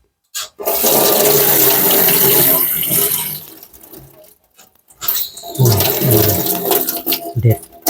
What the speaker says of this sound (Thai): ก่อนอื่นผมขอล้างผักชีก่อนนะครับ